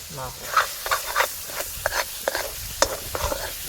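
Coriander, cumin and garam masala hit hot oil for Gujarati spinach bhaji, giving a close, soft sizzle broken by repeated scraping stirs of a spoon in the pan.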